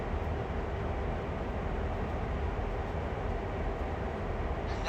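A train rumbling along the tracks in the simulator game Train Sim World, on the Northeast Corridor route around New York, a steady, loud low-heavy roar with no break for the whole stretch.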